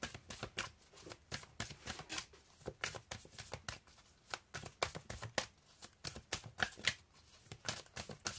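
Tarot deck being shuffled and cut by hand, a steady run of crisp riffling card flutters and soft slaps repeating throughout, close and fairly quiet, with no talking.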